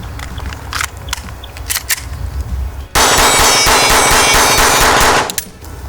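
Glock 44 .22 pistol fired in a rapid string of about ten shots at a single steel plate, dense sharp cracks and metallic pings packed into a couple of seconds, preceded by quieter handling clicks.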